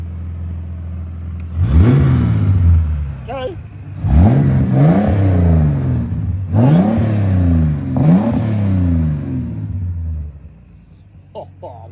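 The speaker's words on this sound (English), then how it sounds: "See if it revs." A 1969 Holden HT engine, just brought back to life during a restoration, revved four times in a row, each a loud, rising roar that falls away before the next. A man calls out briefly between revs.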